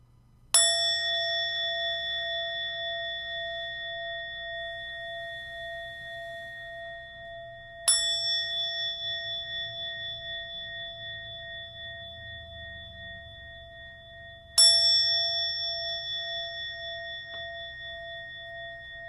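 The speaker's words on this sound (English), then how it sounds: "take one deep breath with each ring of the bell to begin" A meditation bell rings three times, each strike a clear bright ding with a long ringing decay, spaced about seven seconds apart over a quiet low hum.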